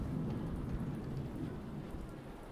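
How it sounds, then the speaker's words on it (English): Steady rain falls with a low rumble of thunder as a storm approaches in the video game Universe for Sale, a continuous wash of sound with no voices. "The storm is almost here."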